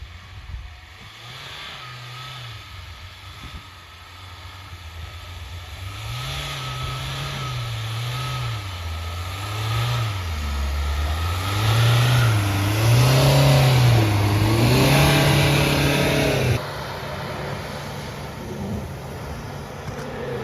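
An Isuzu or SsangYong off-road vehicle's engine revs steadily as it drives uphill on a rough trail, the pitch rising and falling in waves, loud and close, easing off near the end.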